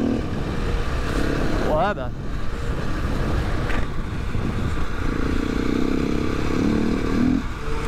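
A KTM 690 enduro motorcycle rides past with engine drone and brief revs, moderately near, with road clatter and a short spoken remark.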